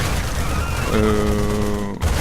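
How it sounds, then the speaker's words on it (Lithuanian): Infantry in a video game fire rapid bursts while running back in retreat from attacking zerglings, a loud, dense crackle of gunfire with ringing tonal effects that cuts off abruptly near the end. "Toliau pėstininkai bėga atsitraukdami ir šaudo."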